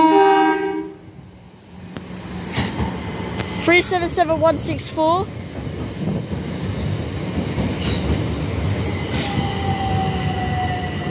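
A train idles at Sydenham station platform with steady rumbling and clatter, while an announcement voice speaks briefly near the start.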